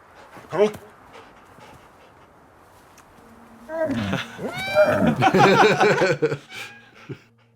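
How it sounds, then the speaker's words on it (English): A cartoon dog in the animated film Flow, panting and whimpering in excited, high-pitched bursts, close and lively, with other animal creatures and music around it. "Dog just like spinning, chasing its tail in happiness is the most dog-like thing."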